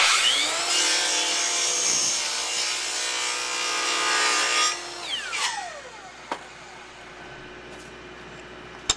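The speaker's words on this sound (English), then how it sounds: "Then it's simply a matter of holding your stock, making your cut." Miter saw making a compound cut through a piece of molding: a loud, steady whining cut for several seconds, then the blade spins down with a few sharp clicks and knocks near the end.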